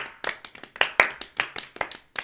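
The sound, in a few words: slow clap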